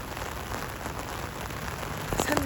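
A sudden heavy rain shower hisses steadily as a dense, even wash of drops on surfaces, continuous and fairly close throughout.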